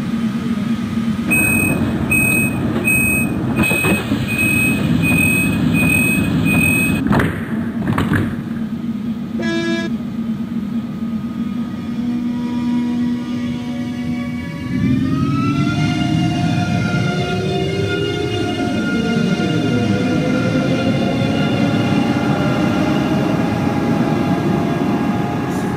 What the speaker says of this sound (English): the Ice T sounds in Train Simulator are completely inaccurate